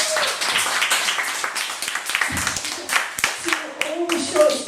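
A Halloween gathering at Bank Street gives a round of applause, with steady dense clapping from a small audience running throughout and voices talking over it.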